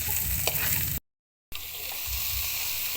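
Onion, garlic and bagoong sauté in a pan with a constant close sizzle and an occasional stir, cut by a brief moment of silence before the frying resumes.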